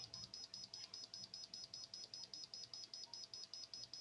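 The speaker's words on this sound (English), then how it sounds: "And now we have it buzzing." An Arduino piezo buzzer beeps in a fast, steady train of short high-pitched pulses, about four or five per second, faint and alone with no talk.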